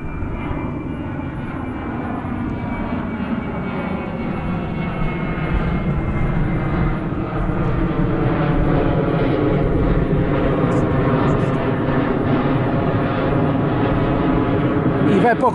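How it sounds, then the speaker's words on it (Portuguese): Airplane taking off near an island volcano in the Azores, a steady loud engine roar that builds slightly over fifteen seconds, with faint voices under it. "Aí temos um avião a levantar, olha lá, olha que engraçado, o avião a levantar voo."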